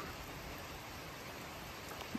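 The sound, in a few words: heavy rain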